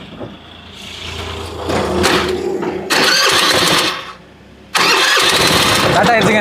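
A homemade mini train engine built from scrap materials and plywood coughs and sputters, then catches and settles into a loud, close running rumble while people talk nearby.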